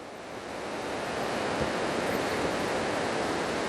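Sea waves wash continuously onto the shore at Azheekal beach, a steady broadband surf roar that swells slightly and holds close and loud, with no voices.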